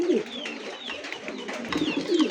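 A pair of young Lahori pigeons, blue-barred, coo steadily up close. Low, throaty calls repeat several times over faint background noise.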